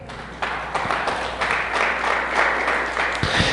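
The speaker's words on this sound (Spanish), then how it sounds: "Dale un aplauso al Señor." Churchgoers break into applause, a moderately loud, slightly uneven clapping that swells after a brief start and carries on steadily, with no voices over it.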